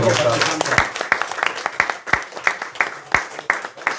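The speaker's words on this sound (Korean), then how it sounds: "하나님께 감사 박수 드립니다." A church congregation at a health seminar claps in thanks, a loud, rhythmic unison clap of about a dozen evenly spaced beats with softer scattered applause underneath.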